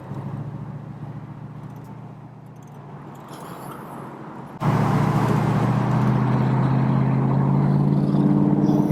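A 1965 Ford Mustang convertible with a 289 V8 cruises slowly on a freeway in heavy traffic, its steady engine drone and road rumble jumping suddenly louder halfway through as wind and traffic noise swell.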